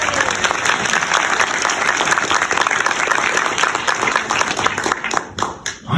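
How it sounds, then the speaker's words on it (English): At the Ms Wheelchair South Carolina 2024 pageant, the audience gives the contestants a dense, sustained round of applause that holds steady and then thins out and tapers off in the final second. "let's give another big round of applause for our ladies."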